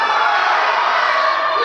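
Steady crowd noise in a high school basketball gym during a free throw late in a close fourth quarter, a dense, continuous wash of voices and shouts at a fairly loud level.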